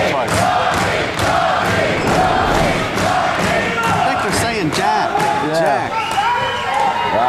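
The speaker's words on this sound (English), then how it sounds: "Listen to this crowd." A racquetball crowd in the 2007 US Racquetball Open finals chants 'Jack' in loud, rhythmic unison, with rising cheers and a commentator's voice under the steady roar.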